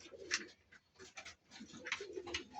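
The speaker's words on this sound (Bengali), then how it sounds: "মাসাল্লাহ খুব সুন্দর কবুতর এই যে" Pairs of red and sky-blue pigeons coo softly nearby, a few low burbling calls repeating over quiet background rustle.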